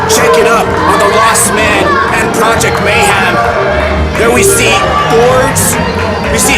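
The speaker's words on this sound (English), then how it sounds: "there you hear the crowd there appreciating all the wrestlers" A packed crowd at a tornado tag title wrestling match fills the arena with a dense, loud, continuous babble of chatter, shouts and cheering that never lets up.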